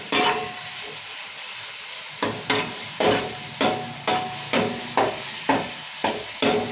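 Onions, tomatoes and chillies fry in a pan for egg biryani, a steady sizzle punctuated by a rhythmic series of close, sharp spoon scrapes about every half second.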